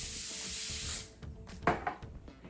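A short hiss of spray onto pork chops at the start, followed by quiet rubbing and handling noises close by.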